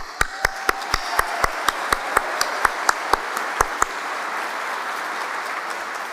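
An audience at the University of Pittsburgh School of Medicine white coat ceremony applauds, a steady wash of many hands clapping, punctuated by a series of sharp, loud individual claps close to the microphone that stop partway through as the crowd noise carries on.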